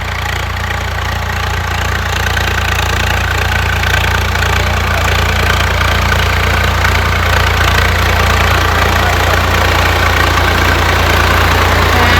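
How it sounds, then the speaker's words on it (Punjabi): A tractor engine runs loud and steady up close, a continuous low rumble with a rhythmic knock and no talking. "ਆ ਦਾ ਬਈ ਜੱਟ ਦਾ ਟਰੈਕਟਰ"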